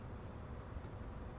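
A cricket in a school anomaly-hunting video game gives one short, faint burst of rapid high chirps over a low background hum.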